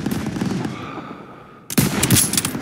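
Gunfire in a 1944 war battle scene: rapid bursts of automatic fire and sharp shots, a lull of fading rumble, then a sudden loud eruption of close, dense firing.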